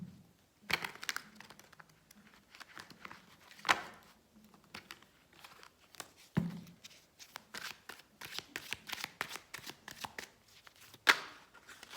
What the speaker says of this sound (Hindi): अब हम कार्ड ड्रॉ करते हैं मिडो के लिए